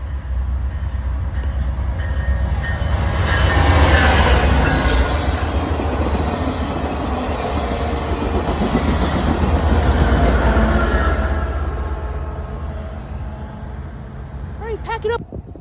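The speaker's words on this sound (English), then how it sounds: "Next up, we have Amtrak 73 on its way to Charlotte." Amtrak 73 passenger train on its way to Charlotte, pulling in to stop at Kannapolis Station, with a steady broad rumble of rolling cars and wheels, swelling slightly and then easing toward the end, while people talk nearby.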